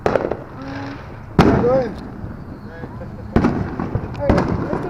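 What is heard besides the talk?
fireworks going off on the 4th of July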